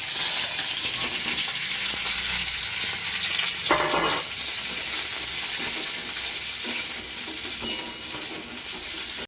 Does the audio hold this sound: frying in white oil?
yes